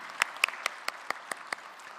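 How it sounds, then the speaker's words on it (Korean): A church congregation gives thanks with sparse, scattered hand claps, about nine separate claps spread evenly across two seconds, soft and a little distant in a quiet room. "우리 함께 감사의 박수를, 또한 하나님께 영광의 박수를 한번 보내셨으면 좋겠습니다"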